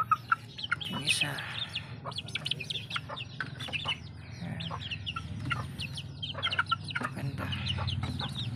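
Two-month-old Sweater Lemon chickens give scattered, soft clucks and short chirps at close range, repeating irregularly over a quiet farmyard background.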